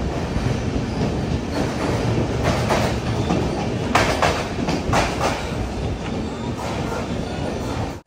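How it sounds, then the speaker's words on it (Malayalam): A Sampark Kranti Express passenger train pulls into platform 1 at Thrissur railway station, giving a loud, steady rumble with faint wheel clatter throughout, without voices. "തൃശ്ശൂർ റെയിൽവേ സ്റ്റേഷൻ്റെ 1 നമ്പർ പ്ലാറ്റ്ഫോമിലേക്ക് ഇതാ ട്രെയിൻ എത്തിക്കൊണ്ടിരിക്കുകയാണ്."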